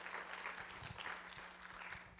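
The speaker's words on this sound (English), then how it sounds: "let's give Cindy a huge round of applause." An audience at a WordPress business conference applauds in a dense, steady patter of many hands, heard at a low level from a distance and lasting a couple of seconds.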